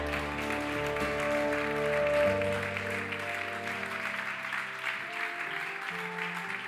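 Congregation in a French-language church service applauding and cheering for Jesus, a steady wash of clapping from many hands with a few voices, moderately loud and continuous throughout, with sustained musical tones underneath.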